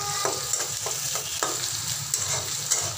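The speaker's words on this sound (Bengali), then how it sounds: "এভাবে আপনি মাছটা আমি যেভাবে ভুনা করতেছি এভাবে আপনি ঠিক এভাবে ভুনা করবেন" Fish being stir-fried bhuna-style in a pan, a constant hot sizzle broken by repeated scraping stirs of the spatula, close up and alone without speech.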